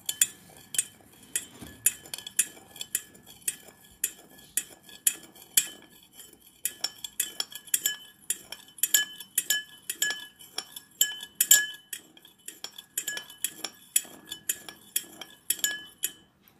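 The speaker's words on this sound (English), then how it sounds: "Now, put a teaspoon of salt in a glass of water. Stir the water with a spoon." A metal spoon stirs a teaspoon of salt into a glass of water, making quick, steady clinks against the glass. The clinks repeat close up and clearly for the whole stretch, with no talking.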